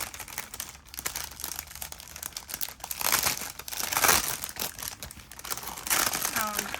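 Plastic bags crinkle and rustle up close in repeated bursts of handling, loud and uneven, with a person talking at moments.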